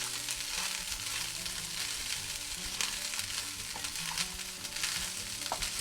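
Frozen carrots, green beans and corn hit a pan of leftover fried rice and sizzle continuously while being stirred, with a steady crackling hiss and occasional scraping of the utensil, no voices.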